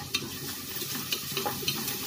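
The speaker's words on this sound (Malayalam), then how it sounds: "ഇഞ്ചിയും വെളുത്തുള്ളിയും ചതച്ചും കൂടി ചേർത്ത് കൊടുക്കാം." Crushed ginger and garlic sautéing with onions for ghee rice, a soft steady sizzle with a few light stirring scrapes, close and fairly quiet.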